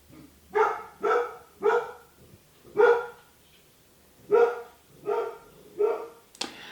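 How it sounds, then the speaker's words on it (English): Dogs barking in the background, a series of about nine single barks in an uneven rhythm, moderately distant and fairly clear in an otherwise quiet room, with a sharper final yip. "I'm sorry about the dogs barking."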